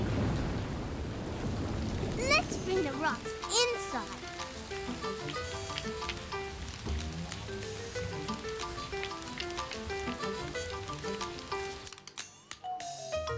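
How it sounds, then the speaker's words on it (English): Cartoon rain hisses steadily with rumbling thunder at the start, then continues under children's voices talking and light background music. "It's raining. We can play in the rain."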